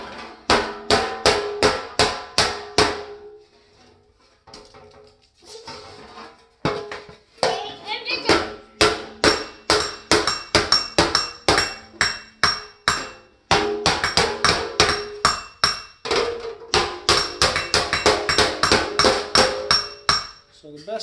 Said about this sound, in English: I don't have a lot of room, so I got to move the piece and keep hammering in the same spot.